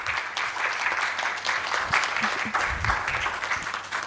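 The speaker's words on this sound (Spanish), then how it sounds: "Un aplauso, por favor," Audience applause in an amphitheatre for a presenter on household food security in Indigenous communities, closing a three-day conference; steady, dense clapping throughout, moderately loud and fairly close.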